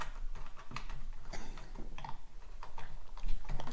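A motorcycle phone mount clamp being tightened onto handlebars produces a quick run of small ticking, ratcheting clicks, close and fairly quiet, with no talk.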